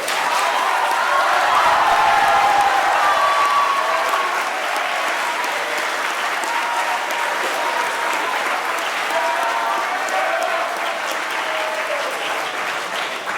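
A large audience at a school awards ceremony gives sustained, full applause for gold medalist students, a dense wash of clapping that stays loud and even throughout, with faint voices underneath.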